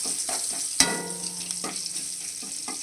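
Dried red chillies and garlic fry in oil in a kadai wok, a continuous close sizzle broken by a sharp clink of a utensil and a few soft stirring scrapes, no talking.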